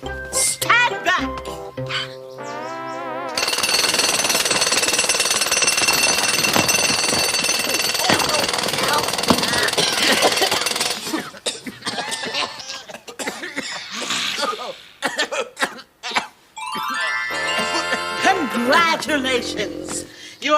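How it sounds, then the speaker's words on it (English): A loud, sustained rattling hammering like a jackhammer, surrounded by voices, coughing and laughter. "Now the Royal Jackhammer."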